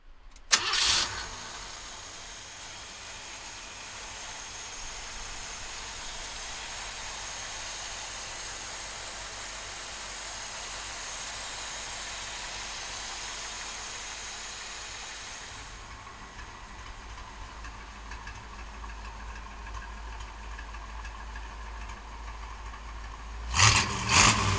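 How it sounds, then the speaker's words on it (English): A Ford 302 V8 in a 1932 Ford Tudor cranks and catches, then settles into a steady, loud idle that continues for most of the clip, with the rumble dropping slightly near the end before a few sharp revs. "So come on up and we're gonna fire this 302 up."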